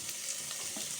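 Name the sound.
onion and tomato sizzling in a pan for Maggi masala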